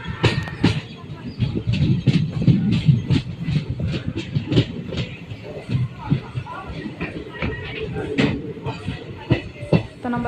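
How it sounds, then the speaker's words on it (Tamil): Train pulling into platform 2 on the Koradacheri to Thiruvarur route, with rumbling wheels, repeated rhythmic clanks and squeals as the carriages slow, while someone talks over it. "பிளாட்ஃபார்ம் நம்பர் 2ல் அரைவ் ஆகிட்ருக்கோம்"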